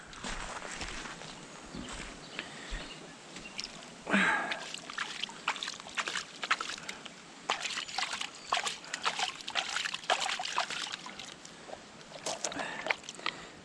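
Creek gravel is washed out of a bucket with water, giving irregular splashing, trickling and sloshing bursts with a sharper slosh partway through, close by and moderately loud.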